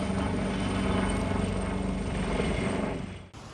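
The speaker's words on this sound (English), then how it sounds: "These helicopters are owned by Atlantic Airways and also used as passenger service to the other" An Atlantic Airways passenger helicopter in the Faroe Islands thrums loudly and steadily nearby, its rotor chop pulsing low, before the sound cuts off abruptly near the end.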